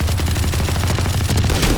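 Sustained automatic gunfire in Valorant, a loud, fast rattling burst of shots pounding steadily close up with no pauses throughout.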